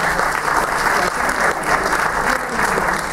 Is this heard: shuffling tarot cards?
no